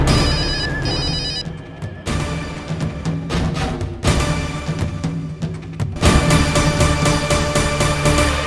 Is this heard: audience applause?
no